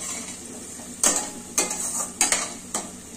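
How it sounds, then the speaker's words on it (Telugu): Fenugreek leaves and garlic stirred in hot oil in a pan, a soft steady sizzle broken by several sharp scrapes and clinks of the spatula, close and fairly quiet, no talking. "ఇట్లా ఆయిల్లో వేయించితేనే మెంతకూర టేస్ట్ వస్తుంది అనమాట"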